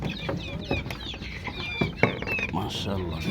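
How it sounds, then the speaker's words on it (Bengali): Free-range desi chickens cluck in a farm coop, with several short, uneven clucks and squawks close by and a busy, scratchy background. "দেখুন এই যে আরো মুরগি।"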